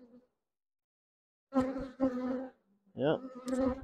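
Honeybees in an opened, defensive beehive buzz loudly and close by in several short bursts, with near silence between them.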